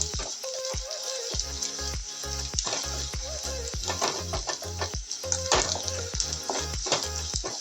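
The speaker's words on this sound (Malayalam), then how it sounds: "സവാളയൊക്കെ മൂത്ത് തുടങ്ങി." Onions sizzle in a hot pan as they are stirred for poha, a dense steady frying hiss broken by repeated scraping knocks of the spoon against the pan, close and loud, with no talk over it.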